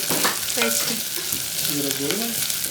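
Dry red chillies, peppercorns and whole spices frying in hot oil for a restaurant-style paneer masala curry, a steady close sizzle with stirring scrapes of a spoon in the pan.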